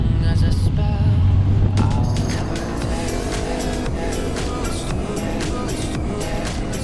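A roadster rolls along a rough, bumpy road, its engine humming steadily and close, with road noise and scattered knocks and clicks from the uneven surface.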